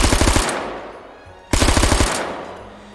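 Two rapid bursts of automatic gunfire from a video game gun in H3VR, each a quick string of sharp shots followed by a fading echo, loud and close.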